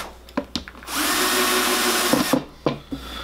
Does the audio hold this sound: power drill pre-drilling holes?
yes